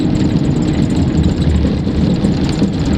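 A Toyota Hilux engine drones steadily and loudly from inside the cab while driving a sandy two-wheel desert track, a constant low rumble with rattling road noise and no pauses.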